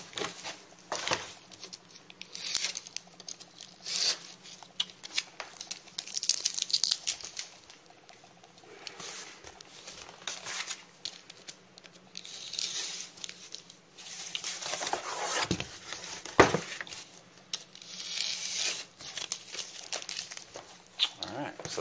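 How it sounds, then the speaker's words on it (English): Excess tape is trimmed off a model airframe, producing faint, irregular crinkling, snipping and scratching sounds scattered across the stretch with quiet pauses between them. "we're going to trim off the excess tape."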